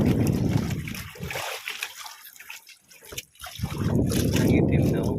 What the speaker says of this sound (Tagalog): Malaki-laki yung mga alon ngayon.